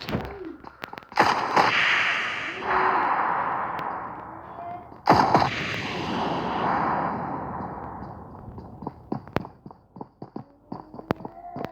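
Gunfire in the PUBG Mobile battle royale game, loud bursts around two and five seconds with scattered sharper cracks later, mixed with game noise and background voices.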